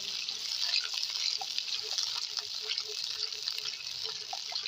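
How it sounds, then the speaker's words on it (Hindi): Garlic and ginger paste frying with onions in a pan, giving a steady close sizzle with faint scraping and stirring throughout, no voices. "अब इसमें ऐड करेंगे लहसुन और अदरक 1-1 चम्मच की पेस्ट। इसको मिक्स करेंगे।"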